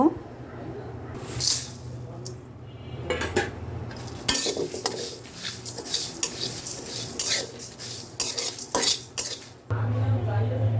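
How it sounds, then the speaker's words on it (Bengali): A spoon scrapes and clinks against a pan in irregular strokes as dried chillies, whole garam masala and bay leaves are dry-roasted, with a voice talking now and then. "এগুলোকে ভালো করে টেলে নিব"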